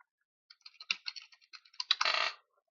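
Computer keyboard typing in short irregular bursts of crisp clicks, close and clear, ending in a quick rapid flurry of keystrokes, with no talking.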